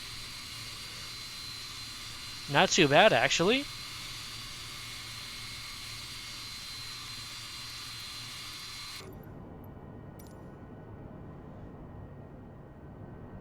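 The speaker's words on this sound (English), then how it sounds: "tail engine is started." An MD-11's tail jet engine runs in Microsoft Flight Simulator with a steady broadband roar and a thin high whine. A voice speaks briefly near the start, and the engine sound drops to a quieter, duller hum for the last few seconds.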